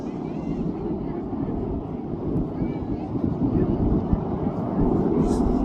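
Red Arrows display jets pass overhead at the Cosford air show, a sustained roaring drone that swells slightly toward the end, mixed with wind buffeting and a commentator's voice.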